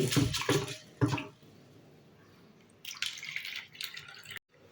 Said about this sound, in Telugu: వీటిని ఒకసారి శుభ్రంగా వాష్ చేసుకోవాలి